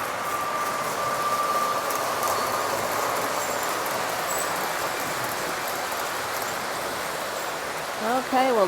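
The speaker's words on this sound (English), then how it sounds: "There's the freight train." A model freight train runs on a home layout with a steady, soft rumbling roll, faint high tones drifting over it and a few chirping sounds at the end.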